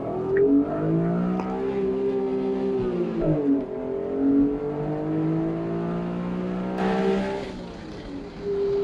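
An Acura NSX engine drones steadily with harmonic tones sliding up and down as it revs and shifts, continuous and close throughout.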